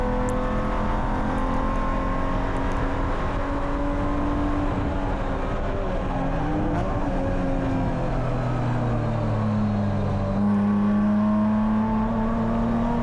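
A BMW E46 Spec race car engine drones hard on track at Willow Springs, a loud sustained in-car roar with pitch rising and falling through gear and throttle changes, no voice over it.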